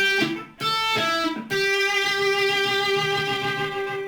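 An electric guitar plays the intro solo of a song as a few sustained, ringing notes with short breaks between them, heard clearly and alone.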